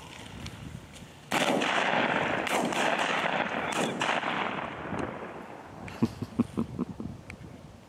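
Shotgun blasts during a bird hunt, a loud sustained burst of gunfire from about 1.3 s followed by several sharp, separate shots near the end.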